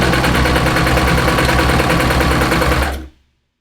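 A Babylock Vibrant serger overlocker runs fast and loud while sewing a lettuce rolled hem, giving a steady close mechanical whirr for about three seconds before it stops abruptly.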